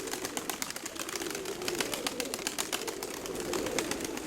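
Pigeons coo softly amid a busy flock, with steady low murmuring and rustling flutter throughout.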